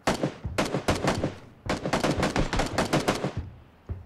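Rapid automatic gunfire in PUBG rattles out in two long, loud bursts of sharp close shots, with a short pause between them and a single final shot at the end.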